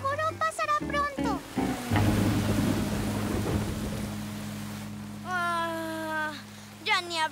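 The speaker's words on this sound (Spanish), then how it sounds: "Solo es un poco de lluvia." Heavy rain hisses with a deep rumble of thunder, and children's voices are heard before and after the downpour.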